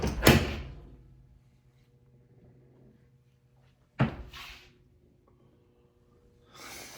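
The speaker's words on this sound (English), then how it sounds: "That just knocked on the door right behind me right here." A sharp thud on a door at a reputedly haunted ranch, followed by a second loud bang near the middle and a fainter rustle at the end, with quiet room tone between.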